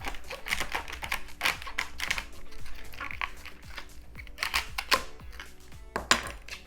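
A knife chops through the ends of celery stalks on a cutting board, giving a quick series of close, sharp, irregular taps with no talking.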